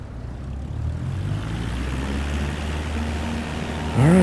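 A simulated airplane in Microsoft Flight Simulator 2024 begins its takeoff roll, with a steady low engine drone that builds slightly, then a rising tonal whine joins in at the very end.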